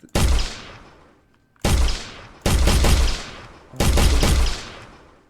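Gunshots ring out in a prototype first-person shooter game: four loud, sharp blasts with decaying echoes, spaced about a second apart, with no talk over them.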